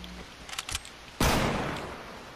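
A Fortnite Battle Royale gunshot lands as a single loud, broadband blast whose tail rings out and decays. A few faint clicks come before it, and no one talks.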